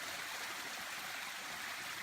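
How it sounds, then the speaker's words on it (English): A waterfall in the woods along the Appalachian Trail rushes in a steady, dense hiss of falling water, close and unbroken, with no voices. "I've come to this beautiful waterfall."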